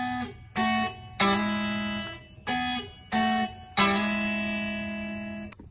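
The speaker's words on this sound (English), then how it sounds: "I'm just going to do some licks using some 5ths and 6ths" Six plucked guitar phrases in sixths ring out clearly, some short and some held, forming a melodic lick with no talking.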